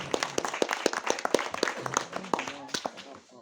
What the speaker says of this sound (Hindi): सबको जोरदार ताली बजा दियो।